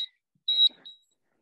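Three electronic beeps from a workout interval timer marking the end of a countdown: a short tone, a longer one, then a final shorter beep, clear and close with quiet between them.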